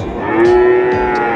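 A single loud, close moo from one head of cattle at a cattle market sounds out clearly over faint background chatter.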